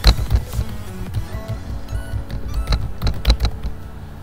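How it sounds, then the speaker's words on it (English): Keys tapped on a computer keyboard, uneven clusters of close, crisp clicks over a faint background hum. "So first we will type our name of the bot basically."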